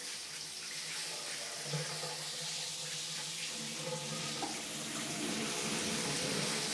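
Steady, loud rush of water pouring from an exposed shower faucet's handheld sprayer, a continuous broadband hiss with no break and no voices.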